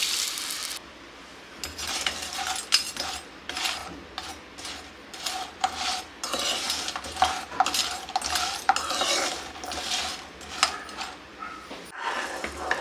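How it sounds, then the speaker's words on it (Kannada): A spoon scrapes and clinks against a pan in repeated strokes, stirring jaggery as it melts with a little water on the stove for moong dal kheer. The sound is moderately loud and uneven, with a soft background hiss. "ನೋಡಿ, ಈ ಥರ ಬೆಲ್ಲನ ಕರಗಿಸ್ಕೊಳ್ಬೇಕು"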